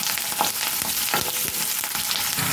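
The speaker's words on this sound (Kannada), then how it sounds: "ಮೆಣಸಿನ್ಕಾಯಿನ ಚೆನ್ನಾಗಿ ಎಣ್ಣೆಯಲ್ಲಿ ರೋಸ್ಟ್ ಮಾಡಿ." Green chillies roasting in hot oil for onion-lemon chitranna, a continuous close crackling sizzle with light stirring throughout the short stretch, no voices.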